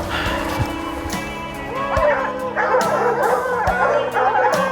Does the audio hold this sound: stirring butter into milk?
no